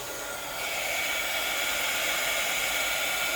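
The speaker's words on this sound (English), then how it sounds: "Just keep my heat tool on it." A heat tool blows hot air onto an embossed die cut, making a steady, close, whooshing hiss that gets slightly louder after a moment and holds constant with no talking.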